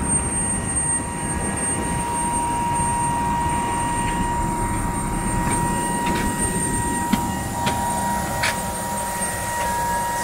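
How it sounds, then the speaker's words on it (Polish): A constant roar of a LOT airliner's jet engines heard from seat 17A, with a steady high whine, loud and unbroken, with faint clicks and no voices. "Cudowne silniki, co?"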